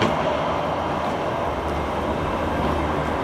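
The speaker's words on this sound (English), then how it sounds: "that's another super tram." A Sheffield Supertram passes along a Hillsborough street. Its steady, broad rumble and rolling noise stay loud and close for the whole stretch, with no voices over it.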